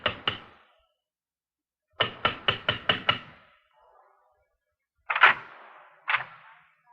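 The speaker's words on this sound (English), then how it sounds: "This time we'll knock, Danny." Knuckles rapping on an apartment door in a radio police drama: two knocks, a pause, a quick run of five, then two sharper louder raps after a gap, close and dry with no voices.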